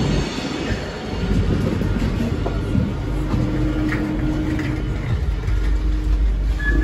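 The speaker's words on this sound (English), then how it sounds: "So we're on the train now." Inside a long passenger train departing a London station, a steady low rumble and rolling rattle fill the carriage, with faint wheel squeal rising over the continuous hum.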